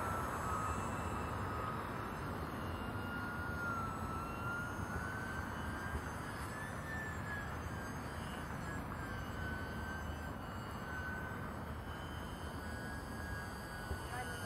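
A small Horizon Hobby Cirrus SR22T UMX radio-controlled plane flies aerobatics, its electric motor a steady whine that rises and falls in pitch across the manoeuvres, with someone talking throughout.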